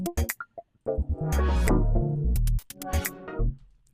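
A Zebra 2 synth glitches while presets are flicked through rapidly, giving stuttering bursts of clicks and short tones that break into a dense, buzzing chordal swell before choppy fragments return.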